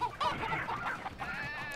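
A chicken clucks in the video game Moving Out, a run of close, fluttering clucks and squawks that carries on without pause and sounds alone.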